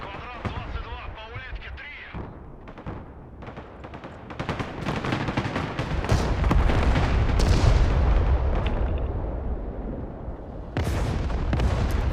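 TOS-1 heavy rocket artillery firing in the real-time strategy game Broken Arrow, a run of loud booming launches and blasts building into a dense, sustained roar, with a voice talking over the start.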